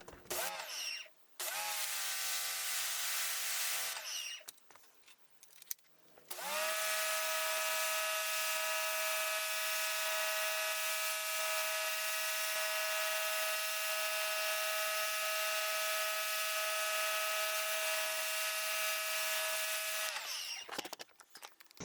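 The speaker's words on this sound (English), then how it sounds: "This was my first time using electric pressure washer, and I'm amazed how easy it is and user friendly." An electric pressure washer runs with a steady, loud motor whine that holds for about fourteen seconds after a couple of short starts and stops near the beginning, with no talking.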